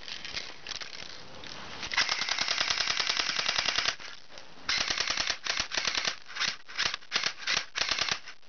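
A toy Uzi fires in close, rapid bursts of dense, snappy clicking shots. The long bursts break into shorter clusters with brief pauses between them, and no voices are heard.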